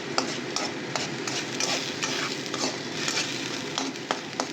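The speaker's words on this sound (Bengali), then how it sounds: "একটু পেঁয়াজটা ভাজা ভাজা হবে" Onions frying in a pan while chicken is being cooked, a steady busy sizzle with scattered sharp clicks of a utensil stirring against the pan, close and moderately loud with no talking.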